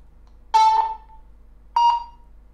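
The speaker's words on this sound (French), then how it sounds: "Il a fait un petit bip" A WiFi outdoor surveillance camera emits two short electronic beeps during setup, the first slightly longer, clear and close against a quiet hum.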